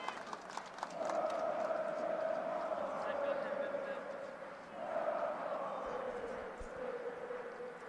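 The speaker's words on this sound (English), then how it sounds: "The crowd in the football stadium are very loud." A large crowd roars and chants in a stadium during a recurve archery mixed team gold match between Korea and Germany, a sustained, loud wash of voices that swells and dips without a break.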